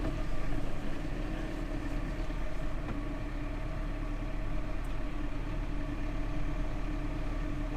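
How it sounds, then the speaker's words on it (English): Slurry pump on a farm sucking slurry out of a reception pit, a steady low mechanical drone with a constant rumbling hum, continuous and moderately loud, no talking. "there's the pump sucking it out of the reception pit"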